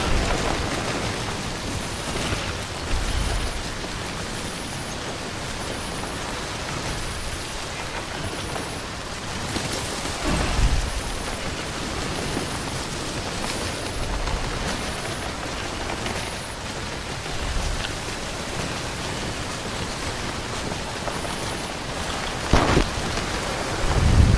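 Steady heavy rain pours in the video game Death Stranding, with low thunder rumbles and occasional cracks breaking through the constant hiss; no one speaks.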